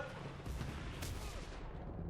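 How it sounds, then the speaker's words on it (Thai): Tank cannon fire and explosions in the World War II shooter Enlisted, a rumbling barrage of booming blasts and rolling gunfire with one sharp crack standing out midway, continuous and fairly loud. "คุณดูรถถังมันยิงดิ"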